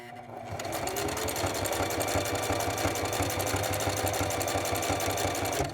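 Singer 4411 sewing machine stitching a buttonhole at a setting of 4, running continuously with a close, loud, rapid mechanical whir and rhythmic needle clatter from start to finish.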